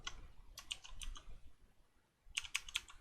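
Keys clatter on a computer keyboard in quick bursts of typing, close and quiet, with a short pause before a final flurry of taps.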